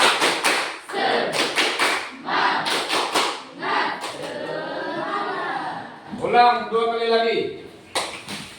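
A school class performs the rhythmic tepuk semangat spirit clap, with sharp, patterned bursts of many hands clapping in quick groups, then children's voices chanting together and a leader speaking.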